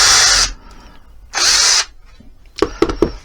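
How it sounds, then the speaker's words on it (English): A power drill bores into a wooden coat rack in two short, loud whirring bursts, followed by a few sharp clicks and knocks. "I am going to drill it"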